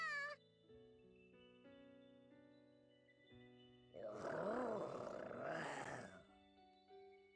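A stylized cat meow from the video game Bravely Second: End Layer rises over sustained synth chords and game music, loud and drawn out, followed by a second meow.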